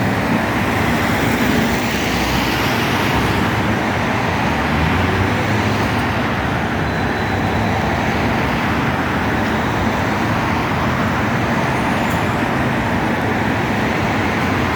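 Buses and other traffic pass continuously along an expressway overpass near a Hong Kong bus stop, heard as a constant loud wash of tyre and engine noise with no speech.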